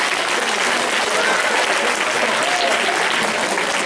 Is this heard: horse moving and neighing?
no